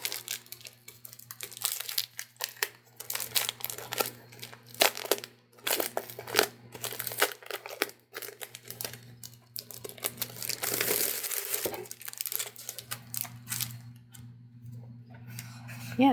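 Thick paper from a gel plate printing kit being handled, crinkling and rustling in irregular bursts of crisp crackles close to the microphone over about sixteen seconds.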